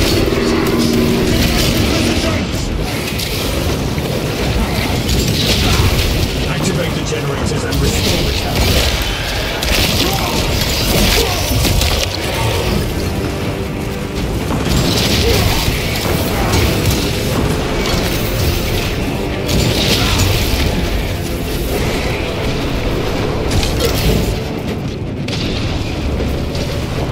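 Heavy cannon fire in the video game Space Marine 2, heard as a dense, continuous barrage of loud booms and blasts with mechanical clatter that stays at full volume for the whole stretch.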